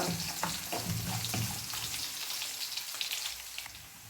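Ginger and garlic frying in a pan over low heat, a steady close sizzle with soft crackling and a few stirring clicks.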